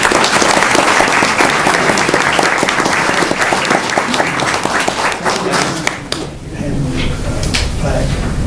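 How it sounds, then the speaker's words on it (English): Applause at a Newport, Tennessee city council meeting for senior students, a loud, dense burst of many hands clapping close by that drops off sharply near the end, leaving a quieter room murmur. "So would everybody just give them a round of applause?"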